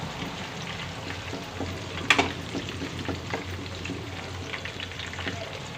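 Chicken curry frying in a pan with curry leaves and chopped onions, a steady close sizzle with faint stirring scrapes and one brief sharp clatter partway through, no voices.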